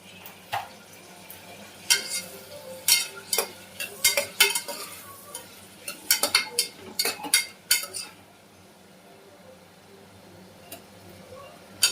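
Small tomatoes being stirred into frying spices in a pan for jackfruit-seed pulao, with irregular clinks and scrapes of a spoon against the metal over a low sizzle, busy for several seconds before going quiet.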